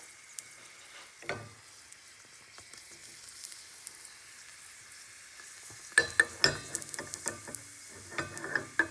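Gyoza (prawn and chive dumplings) pan-frying in a skillet, a steady low sizzle with sharper spattering pops and clinks bursting in toward the end, close and moderately loud, no voices.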